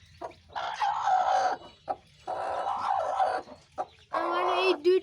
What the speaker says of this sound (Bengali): আমার এই দুইটা মুরগি অনেক শান্ত